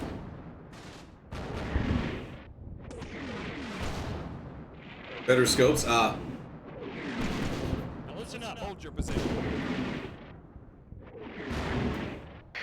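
Artillery fire-mission explosions rumble in Combat Mission Normandy, a PC World War II game on the road to Montebourg, with one sharp, dense blast cluster standing out midway as someone talks over the bombardment almost continuously.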